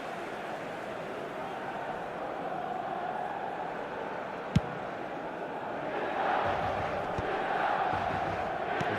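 Stadium crowd in eFootball 2026 during a Manchester United match: a broad, steady roar of many voices, swelling louder in the second half with a sharp thud partway through.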